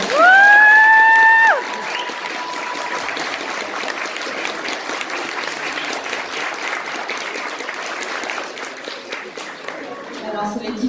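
Audience applause fills a convention panel room, a steady dense clapping that carries on for about ten seconds and follows a brief loud whistle-like tone at the very start.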